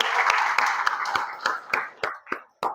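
Seminar audience clapping in a Marathi leadership and entrepreneurship session, a dense burst of applause that thins into a few scattered claps near the end.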